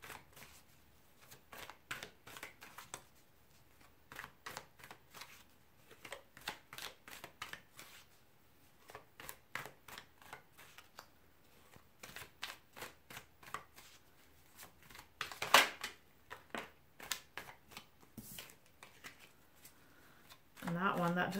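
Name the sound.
shuffling a stack of tarot cards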